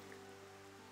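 Steady rain falling in Xenoblade Chronicles Definitive Edition, a soft continuous patter and hiss with faint low sustained tones beneath, quiet and without talk.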